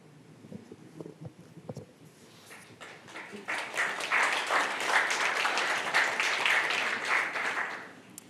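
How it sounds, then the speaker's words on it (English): Listeners at a reading from a book on ordinary mysticism applaud themselves: a few scattered early claps and sounds, then a full, even round of clapping swells and holds before fading at the end. "You are applauding for your sweet, beautiful, luminous, mystical self."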